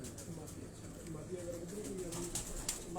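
Pigeons coo softly in a rooftop cage in Lahore, a low steady murmur of several birds with a faint chirp near the end, under a background hum and murmuring voices.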